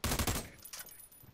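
Rapid gunfire in the video game America's Army: Proving Grounds, a quick cluster of sharp shots in the first half second trailing off into a fainter echoing tail, with no talking.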